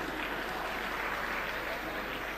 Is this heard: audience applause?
yes